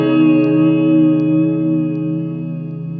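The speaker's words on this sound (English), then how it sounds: "For instance, you have your plate reverb." A guitar played through the plate reverb setting of a JOYO R-14 reverb pedal gives a sustained, shimmering chord whose tail spreads smoothly and fades slowly, with no voices.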